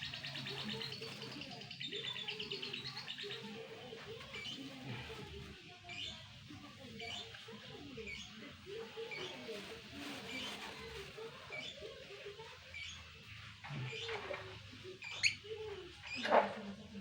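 A caged labe bird calls while being fed, giving soft repeated coos and chirps at close range, with a few sharper calls near the end.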